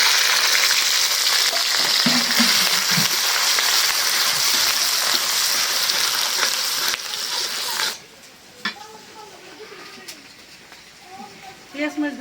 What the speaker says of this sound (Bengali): পেঁয়াজ মরিচ ভাইজে নিলাম